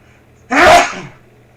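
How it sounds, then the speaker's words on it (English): One loud, close sneeze bursts out sharply and fades quickly, with quiet room noise before and after. "I think I have to sneeze."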